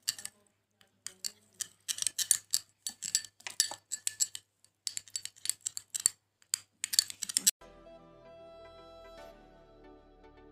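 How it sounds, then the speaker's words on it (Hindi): Homemade moisturizing cream being stirred with green tea in a small bowl, with rapid, irregular clicking and tapping of a spoon against the container, followed by a quieter low hum near the end. "इसको मिक्स कर, हम इसको अच्छे से मिक्स कर लेंगे।"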